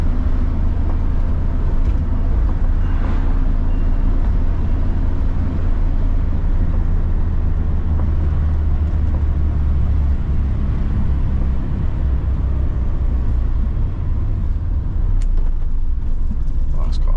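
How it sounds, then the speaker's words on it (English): A Morris Minor car drives along with a steady, loud low engine drone and road rumble throughout; a gear change is not clearly marked, and no words are spoken. "Lovely gear change."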